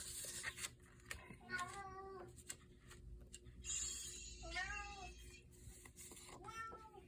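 A house cat meows repeatedly in a rising, plaintive tone, close by, with several separate calls spread across the stretch over faint mechanical ratcheting in the background.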